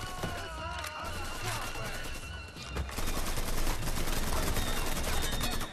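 Gunfire in the Mafia 3 video game, a sustained barrage of shots with an intensifying burst in the second half, dense and close, mixed with game background noise and no speech.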